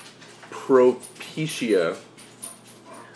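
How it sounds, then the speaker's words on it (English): Excited dogs whimpering and yipping indoors in short, close bursts of whines and a yelp, with a person speaking over and between them. "The dogs are excited."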